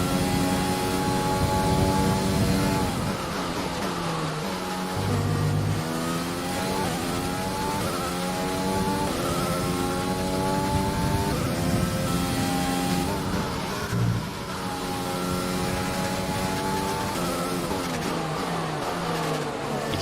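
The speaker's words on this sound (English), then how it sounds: "You can hear the cars go by on the start-finish straight that was just above me." F1 2020 racing cars sweep one after another along the start-finish straight, their high engine whines rising and falling in pitch as they pass. The sound is heard from nearby and runs steadily without talk.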